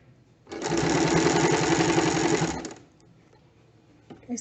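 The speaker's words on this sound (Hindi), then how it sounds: "यहाँ पर सिलाई एज से 1/4 इंच की दूरी पर इस तरह से सिलाई लगाएंगे।" A home sewing machine stitches a zip about a quarter inch from the fabric edge, running steadily for about two seconds in one close, even burst, then stopping into quiet.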